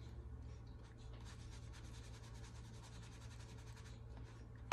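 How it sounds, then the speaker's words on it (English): A brush soaked in water sweeps across watercolor paper, giving faint, close, soft rubbing strokes in a steady back-and-forth rhythm. "So I'm wetting the paper again."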